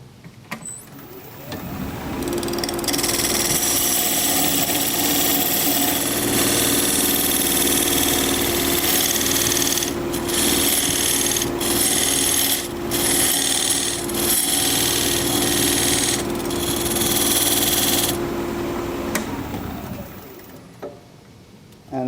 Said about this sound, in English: I'm going to use this diamond point tool to create flat sides on the tenon.